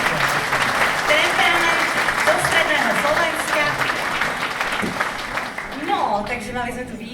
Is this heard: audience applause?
yes